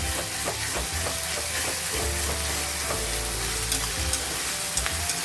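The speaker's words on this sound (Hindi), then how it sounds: "इसका कच्चापन जाने तक हमें भूनना है" Ginger garlic paste frying in a pan for a roasted-masala chicken dish, a steady close sizzle with repeated scraping and stirring strokes of a spoon, alone without talk.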